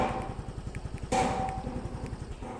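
A Yamaha Fazzio scooter engine idles steadily with a fast, regular putter, close and moderately loud, with a brief bump in noise partway through before it continues chugging evenly.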